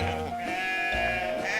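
Cartoon sheep bleating, a loud, wavering animated bleat with music or effects underneath, running steadily through the short stretch.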